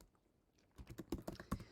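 Quick, close bursts of keystrokes on a computer keyboard, entering a command in a terminal, with a steady clicking patter that starts after a short quiet pause.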